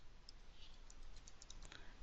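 Quiet keystrokes on a computer keyboard come as a quick, irregular run of light clicks, faint and close, with no voices over them.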